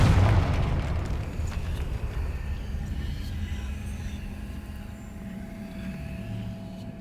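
A Confringo fire spell blast in Hogwarts Legacy booms loudly at the start, then rolls off into a long, rumbling decay with steady low crackle and game ambience trailing underneath.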